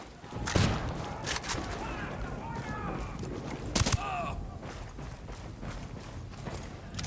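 Gunfire during a firefight in the tactical shooter Ghost Recon Wildlands: several sharp shots stand out over constant background noise and mechanical clatter.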